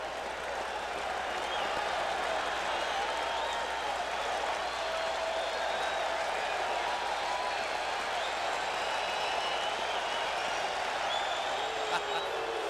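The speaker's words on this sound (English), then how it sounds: "Cliff Johnson taking the role of the villain wrestler here. The crowd reacting to him." Crowd noise in a baseball stadium during a 1981 American League Championship Series game, a steady distant roar that reacts to a batter and stays fairly faint throughout, with no clear talk over it.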